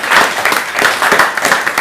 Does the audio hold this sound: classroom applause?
yes